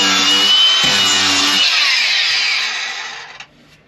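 A power tool grinding out screw holes on a Catalina 30 sailboat: a loud, close, steady high-pitched whine that winds down and stops after about three seconds.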